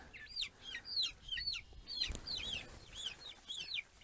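Young chicks in a pastured poultry chicken tractor peep steadily in quick, high, repeated chirps close by, with several birds overlapping throughout.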